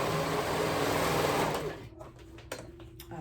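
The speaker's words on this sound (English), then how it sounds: "we're gonna sew those raw edges together, the sides" A sewing machine stitches the side seams of an overall liner with a steady, close whirring run that stops after about a second and a half, leaving a few soft clicks and handling sounds.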